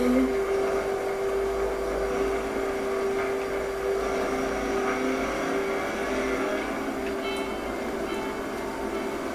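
Steady engine drone of a car driving in the video game Just Cause 3, continuous and fairly loud with a constant hum, no talking over it.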